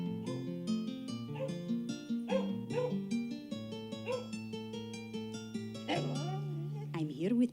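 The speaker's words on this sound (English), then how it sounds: "I'm here with my little dog." A small dog gives a run of short, quick barks and yips within an animated short, set over a bright, stepping musical backing, with a high whine near the end.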